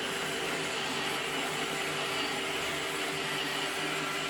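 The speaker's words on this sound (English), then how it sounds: "An old roomba versus a new roomba. Let's see. I'm just going to let this run now" A Roomba robot vacuum runs through a cleaning test, giving a steady, even motor whir with a constant hum that holds at one level the whole time, with no talking over it.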